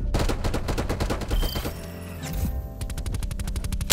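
Video-game gunfire from Akimbo Marshal shotgun pistols: a loud, rapid string of sharp blasts, a brief lull with ringing tones, then another fast volley of shots.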